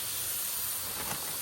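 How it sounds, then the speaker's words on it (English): A steady, close hiss of beaver meat sizzling in a pan fills the whole moment, crackling faintly and constant with no pauses. "You can hear that sizzle"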